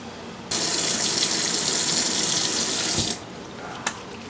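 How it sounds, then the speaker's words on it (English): A bathroom tap runs steadily into a sink as water is splashed onto a face, a continuous close hiss for about three seconds that cuts off abruptly, followed by a brief splash. "So I'm just going to wet my face and go in with this."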